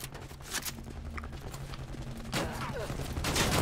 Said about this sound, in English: Shooting the barrier.